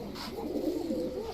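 A Naptha male pigeon gives a single soft, throaty coo at close range, low and rolling, against a quiet background.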